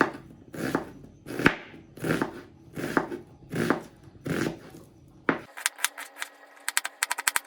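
An onion being chopped with a knife on a board, seven or so evenly spaced firm close thuds, followed by a quick run of lighter rapid taps.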